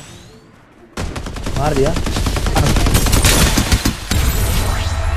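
Automatic gunfire in the battle-royale shooter Farlight 84 with an M4 rifle: after a quiet second, rapid-fire shots erupt loudly and hammer on almost nonstop, with a brief dip near the end, while a player speaks briefly.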